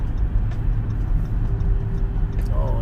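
Steady low road rumble and tire roar fill the cabin of a moving car driving through busy traffic, continuous and fairly loud with a faint passing tone near the end.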